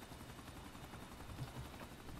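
A helicopter in a GTA video game gives a faint, steady rotor drone that stays low and even throughout and plays on its own.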